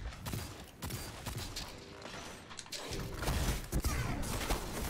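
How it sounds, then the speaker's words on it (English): Machine gun fire in the video game Destiny 2: a dense, continuous burst of rapid shots with booming impacts and explosions mixed in. The firing swells louder toward the end. "Got a machine gun."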